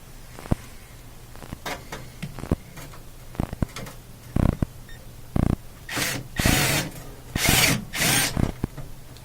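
A ratchet with an extension tightens bolts underneath a Whirlpool laundry center washer, giving bursts of ratcheting clicks and rasping turns between knocks and metallic clatter, loud and close.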